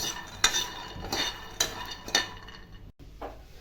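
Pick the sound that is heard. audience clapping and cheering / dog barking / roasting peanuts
roasting peanuts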